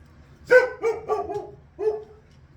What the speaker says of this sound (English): in the yard barking